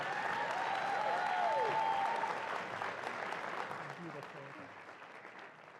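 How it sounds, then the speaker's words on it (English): Audience applause at a live evening event, full clapping that swells early and then gradually thins and fades toward the end, with a brief sustained tone near the start. "Yes, that is another round of applause."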